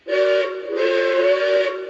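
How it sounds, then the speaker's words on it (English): A Legacy-controlled T-1 Duplex model steam locomotive sounds its steam whistle: two sustained, loud, chord-like blasts with a short gap between them, close and alone. "not only does this thing have whistle steam"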